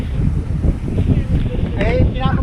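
Strong wind buffets a fishing boat on Manila Bay off Tanza, a steady low roar and rumble on the microphone with faint voices underneath.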